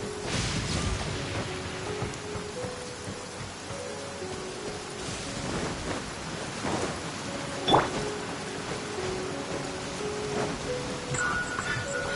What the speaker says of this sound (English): I love listening to the rain from the courtyard.